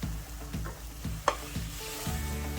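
Sauce sizzles steadily in a frying pan while a utensil stirs it in regular scraping strokes, with one sharp clink of metal partway through.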